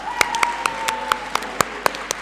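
Evenly spaced claps, roughly four per second, near and distinct over a steady tone, heard at an inter-school debate award presentation.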